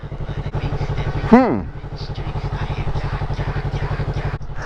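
A motorcycle engine runs steadily with a pulsing, throbbing rhythm close by, and a brief rising whine cuts in partway through.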